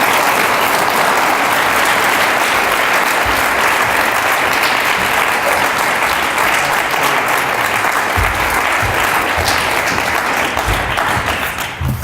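A lecture-hall audience at a visiting writer reading claps steadily and loudly for about twelve seconds, a dense, even wash of applause that holds its level and only starts to thin at the very end.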